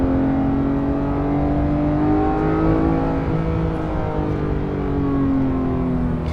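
A Porsche GT3 Touring engine revs high under acceleration, a loud, steady close-up wail whose pitch climbs, dips slightly, then climbs again without any talking.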